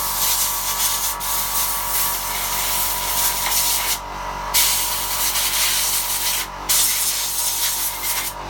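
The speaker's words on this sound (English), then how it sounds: "Pardon my noise of my compressor." An air compressor hisses loudly while blowing out a lawnmower air filter, a close, harsh rush of air that cuts out briefly twice and then resumes.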